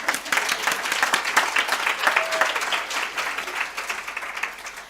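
Audience clapping fills a presentation hall at a dermatology event, a steady dense applause close by that holds for about five seconds without fading.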